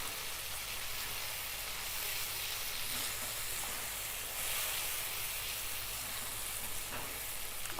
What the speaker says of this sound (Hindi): हल्दी पाउडर, मिक्स करेंगे और इसे अच्छी तरह से फ्राई करेंगे